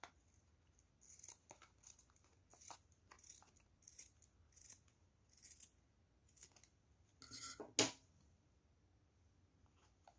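Scissors snip through macramé fringe in a series of quiet, crisp cuts, one after another with light rustling of cord between them and a brief louder flurry of snips near the end.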